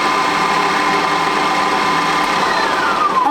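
A kitchen robot food processor mixes at speed 4 for ten seconds while preparing Turkish eggs, its motor whirring loud and steady from start to finish with no talking.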